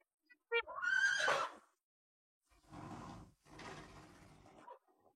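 A horse neighs loudly in a long, shaky whinny, followed after a pause by two rougher, breathy snorting bursts, fairly close with no talk.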